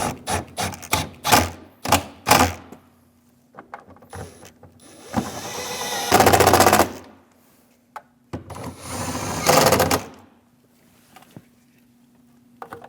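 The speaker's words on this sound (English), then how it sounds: "Snug the nuts down." A power tool tightens the mirror mounting nuts on a 2001-2006 Chevrolet Silverado 2500 HD, running in two longer bursts after a series of sharp handling knocks and clicks, close and fairly loud.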